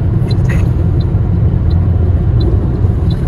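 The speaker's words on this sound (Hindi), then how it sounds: "देख सकते हैं आप 120 की स्पीड में जो है गाड़ी चल रही है" Steady loud interior rumble of a car cruising on a highway at about 120 km/h, with deep road and engine drone and faint periodic ticks over the constant noise.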